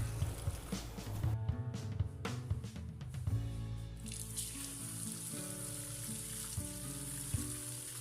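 Cooked pasta being drained and rinsed under cool running water in a home kitchen, with a steady splashing and sizzle-like hiss, a few clinks, and a continuous tap stream throughout, fairly quiet and without speech.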